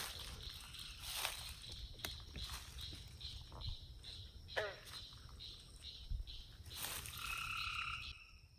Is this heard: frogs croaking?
yes